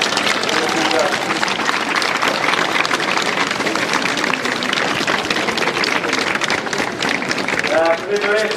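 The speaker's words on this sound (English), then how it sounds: "I think he deserves the biggest round of applause of us" Applause and cheering from a crowd at a Westmeath GAA junior and intermediate football final replay, a steady wash of clapping held at an even level throughout, with voices mixed in.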